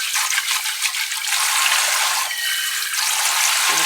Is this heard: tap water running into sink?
yes